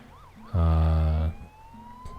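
A loud electronic ambulance siren in the video game Poly Bridge 2 blares for under a second in a steady sustained tone, standing out against quieter background tones before and after.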